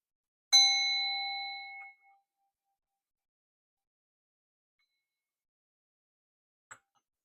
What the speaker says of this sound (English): get my sound bowl out with the bear